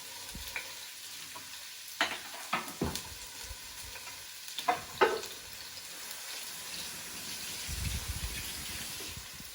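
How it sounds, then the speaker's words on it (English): Onions, ginger, garlic and chopped red chilies fry in a preheated pot, giving a steady close sizzle with scattered clinks and scrapes of stirring, a few sharper knocks in the middle and a rushing, water-like swell near the end. "Add your onions, ginger, garlic, and your chopped red chilies."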